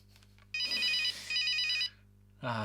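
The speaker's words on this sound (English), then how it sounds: "Just the simple ring, simple things in life." The simple ring ringtone on a 1998 Nokia 5110 mobile phone sounds as two buzzy electronic trill bursts in close succession, then a brief gap before another burst starts, near and alone.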